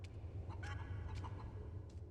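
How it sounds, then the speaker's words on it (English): Chickens in the Resident Evil 4 video game cluck in a few short, soft bursts over a steady low ambient hum, with no talking. "Oh, if only the chickens weren't in frame."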